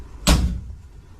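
A Classic Mini door fitted with a newly installed catch and door seal shuts with a single solid thud, close by, followed by a short fade into quiet.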